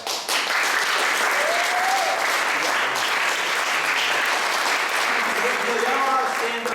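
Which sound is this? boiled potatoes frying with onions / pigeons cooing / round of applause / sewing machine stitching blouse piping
round of applause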